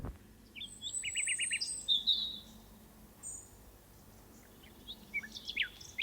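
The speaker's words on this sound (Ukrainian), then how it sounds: "Так, це спів пташок." Birdsong outdoors, several short bursts of chirping and trilling notes separated by pauses over a soft background hush.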